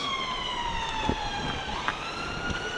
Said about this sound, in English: Just wait for that ambulance.